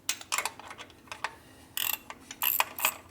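A ratchet wrench tightens bolts on a 1967 74ci Harley-Davidson shovelhead motor, sharp clicking bursts in short irregular runs, close and fairly loud, with pauses between strokes.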